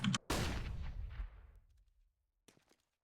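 Gunfire from a CS:GO match, probably an AWP sniper shot: a sharp loud report with a long decaying tail, then a few faint shots or clicks trailing off into near silence.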